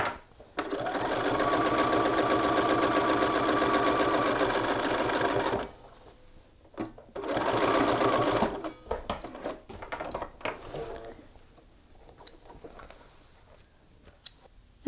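A sewing machine runs in two steady bursts while stitching a shirt collar, the first long and loud, the second shorter after a brief pause, followed by quieter handling clicks and snips.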